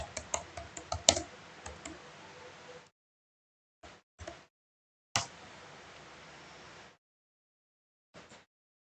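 A run of computer keyboard keystrokes while a command is typed, close and fairly quiet, in uneven clusters of clicks with silent pauses between short bursts.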